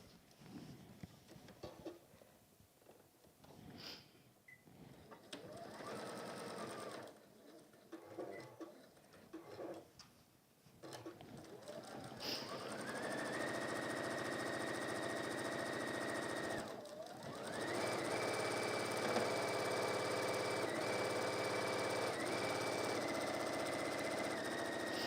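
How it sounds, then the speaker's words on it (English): A sewing machine stitches a fabric mug carrier, first in short, halting bursts, then in long, steady runs of fast, close mechanical whirring. "Let's sew this together."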